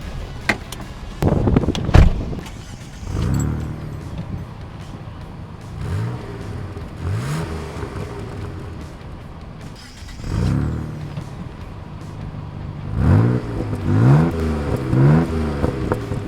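A 1991 Dodge Stealth R/T Twin Turbo engine revs repeatedly outside, rising whines and throaty exhaust bursts coming in waves, with a brief clatter near the start.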